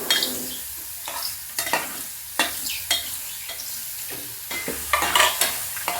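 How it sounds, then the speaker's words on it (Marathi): Mushrooms fry in a little oil in a pan, a close crackling sizzle broken by repeated scraping stirs of a spatula at an uneven rhythm, with no one speaking. "किंचित तेल पण टाकू, म्हणजे चांगले फ्राय होतील आपले मशरूम."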